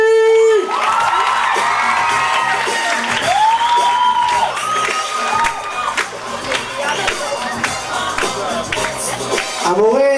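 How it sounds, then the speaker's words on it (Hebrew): A crowd at a graduation crowning ceremony for a boys' class cheers, whoops and claps, with high shouting voices and whistle-like cries rising over steady applause throughout. "אז נקבל אותם אחד אחד במחיאות כפיים סוערות."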